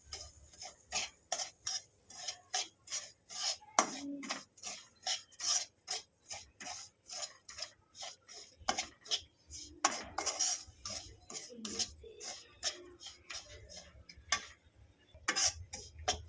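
Semolina roasts in melted ghee while a spoon scrapes it around the pan in quick, regular strokes, a rhythmic rasping series of close, fairly quiet scrapes with no talk.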